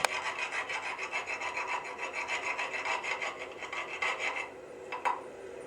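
A flat file rasps back and forth across a 4L60E transmission selector shaft in steady, rhythmic strokes, close and fairly quiet, ending with a couple of light metallic taps.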